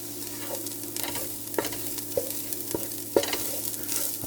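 Okra soup with shrimp stirred in a pot, with a spoon knocking and scraping the pot at irregular intervals over a low simmering sizzle, close by.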